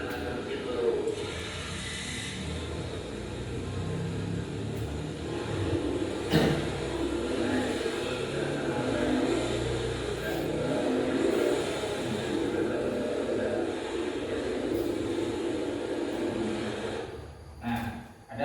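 Fuel-injected Honda Beat motorcycle engine running with a power loss fault, a steady close idle rumble with slight uneven pulsing and a few brief sharp knocks, continuing for the whole stretch.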